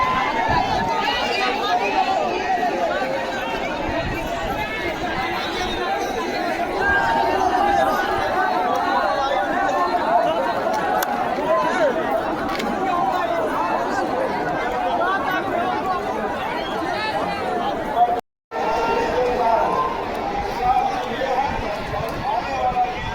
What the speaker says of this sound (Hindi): नरपतगंज में कितना भीड़ है, क्राउड है।